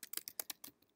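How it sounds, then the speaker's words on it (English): Fingers typing on a computer keyboard, about eight quick, crisp key clicks in an irregular burst, close and fairly quiet with no talk. "So for this one, I might type New York City"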